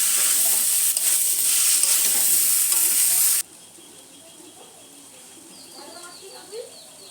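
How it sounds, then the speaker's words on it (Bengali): Young jackfruit is stirred as it fries in a pan, a loud bright sizzle with scraping for a few seconds that then drops abruptly to a quieter background with faint chirps and light clatter. "তারপরে ঢেলে দেবো এঁচোড়। ভালো করে নেড়ে নেব, নাড়তে থাকবো।"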